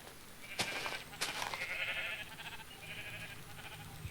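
Sheep bleat in the video game Minecraft, a couple of wavering bleats over a constant game background hum, with sharp clicks of play near the start, no talk.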